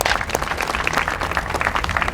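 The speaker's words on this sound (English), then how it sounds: "I'd love for you to give yourselves a round of applause for being here today." Audience applause at an outdoor plaza event, a dense, steady wash of clapping from many hands that holds loud and close for its full length, with no voices rising above it.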